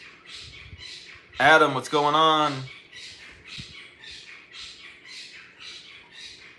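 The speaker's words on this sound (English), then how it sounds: "I apologize for the birds squawking in the background," Birds squawk in the background in a steady, regular series of short calls that runs through the whole stretch. Someone briefly speaks over them.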